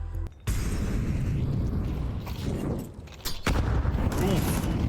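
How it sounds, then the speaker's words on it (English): Counter-Strike 2 match action with grenade blasts and bursts of gunfire, dense and fairly distant, a noisy, crackling spread of shots and booms that continues almost without a break. "The nade's done so much damage."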